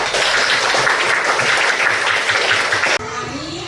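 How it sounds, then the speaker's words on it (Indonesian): A class of fifth-grade schoolchildren claps together in a burst lasting about three seconds, ending abruptly and leaving quieter room tone. "Terima kasih tepuk tangan."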